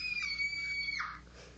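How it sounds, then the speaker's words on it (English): A sound-effect scream, a single high-pitched sustained shriek that holds steady and then breaks into a rougher, lower cry before fading, heard alone. "This is Scream"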